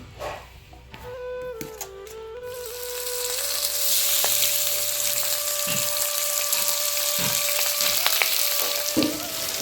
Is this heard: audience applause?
no